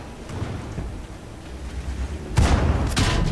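A couple of loud gunshot blasts ring out from a game amid a low rumbling background, the bursts arriving close together.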